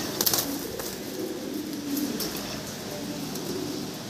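Jacobin and pouter pigeons coo softly in a low repeated murmur at a bird sale, with faint chirps and background noise throughout.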